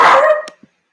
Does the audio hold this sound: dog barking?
yes